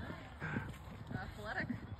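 Horse hooves clip-clopping on the ground while people talk over them, the steady hoofbeats partly buried under the voices, ending in a sharp knock.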